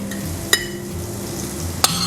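Foie gras pan-frying in its own rendered fat, no added oil: a dense, steady sizzle and crackle close up, with two sharp clinks of a utensil against the pan.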